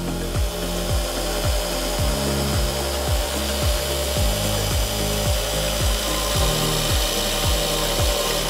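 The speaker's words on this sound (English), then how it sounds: "I'll probably just do that with a file" A hand file rasps steadily across metal on a double cardan shaft being rebuilt, in a regular back-and-forth rhythm of strokes, close and fairly loud, with no talking.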